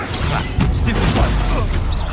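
An Incendio fire spell cast in a Hogwarts wizarding video game produces a loud, continuous rushing, crackling blaze that fills the whole moment, with faint game voices underneath.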